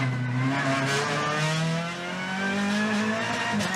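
A TCR touring race car on a wet Australian circuit, its engine holding a strained, steady roar with harmonic whine as the rear wheels lock, loud and close for a few seconds with no gaps.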